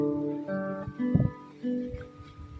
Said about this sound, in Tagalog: Inayos siya pa yung tunog ng gitara kasi sintonado.